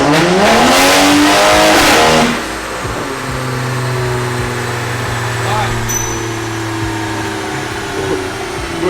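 A Toyota Soarer's 1JZ engine revs hard on a dyno, its pitch climbing for about two seconds before it drops back to a lower, steady run. The engine is loud and close, with people talking near the car.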